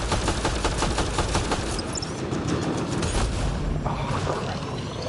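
Turret gunfire in the video game Mass Effect Andromeda, loud rapid bursts of repeated shots layered with booming impacts, continuous and close throughout.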